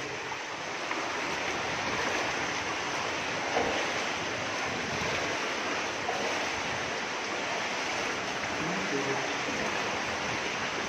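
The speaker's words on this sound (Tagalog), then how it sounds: "Ang lakas ng tubig ngayon. Malakas ngayon" Broad, constant roar of strong rushing water in Baguio, loud and unbroken throughout, with a windy texture.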